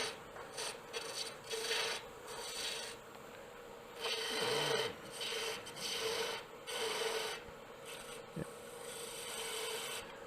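A bowl gouge scrapes and rasps against wood spinning on a lathe while turning a small finial, a close, steady rough cutting with repeated swells and dips as the tool works the piece.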